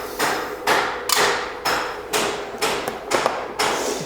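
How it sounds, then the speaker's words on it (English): Hammering rings out in the background during a laser tube installation, a run of loud, regular blows spaced about half a second apart with no talking. "Do we literally have to have hammering on the video?"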